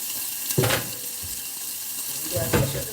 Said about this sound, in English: let's start filling this up with some soapy water